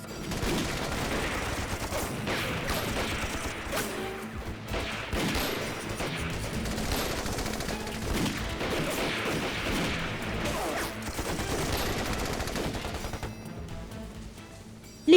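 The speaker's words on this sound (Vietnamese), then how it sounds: "ngoài tiếng súng máy của bọn Nhật, còn có một loại nữa" Japanese machine gun fire from a war film, dense rattling bursts and overlapping gunshots in a continuous fusillade with occasional heavier crashes, loud and sustained for the whole stretch.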